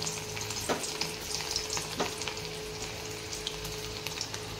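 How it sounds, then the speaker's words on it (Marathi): Chopped garlic sizzles and crackles steadily in hot oil in a pan, a continuous frying hiss with a few stirring clicks, close and moderately loud with no talking. "तेल गरम झालेलं आहे, आता त्यामध्ये मी काय करत आहे, लसूण कट करून घेतलेला ते लसूण त्या तेलामध्ये टाकून घ्यायचं आहे।"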